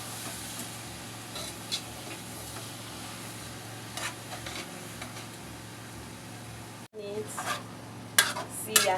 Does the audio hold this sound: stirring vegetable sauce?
yes